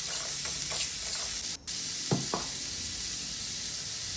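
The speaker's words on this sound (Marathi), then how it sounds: "तेलामध्ये जिरं मोहरी टाकलेले नंतर कांदा आणि कांद्यासोबतच कढीपत्ता टाकला की मग तेल जास्त असं उडत नाही" Onion and curry leaves fry in oil with cumin and mustard seeds for tomato chutney, a steady close sizzle with a couple of brief stirring scrapes and one momentary dropout.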